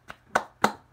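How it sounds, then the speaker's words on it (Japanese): Short bursts of hand clapping in praise of Júbilo Iwata's 3–1 win over Sagan Tosu: four quick, separate claps spaced about a third of a second apart, moderately loud and close, with no talking. "まず拍手を送りましょう。"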